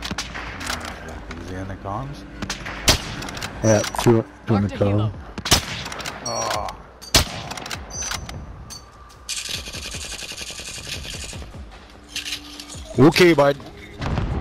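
Gunfire erupts in Call of Duty Modern Warfare, with loud sharp shots and rapid bursts spread through the scene. Players talk over the shooting.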